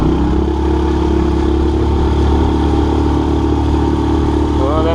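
A gas motor mounted on a pedal boat roars loud and steady as the throttle opens, then its pitch climbs near the end as it revs harder.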